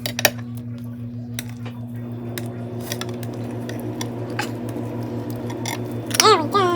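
A small spatula scoops chicken enchiladas out of a baking dish with soft, wet squishing and light scrapes against the dish, close up over a steady background hum.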